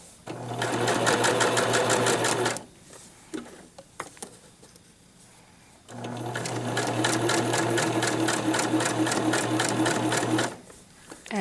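A sewing machine back stitches while a stuffed lamb toy is sewn. Two loud, steady bursts of rapid stitching, each lasting a few seconds, are separated by a quieter pause filled with small handling clicks.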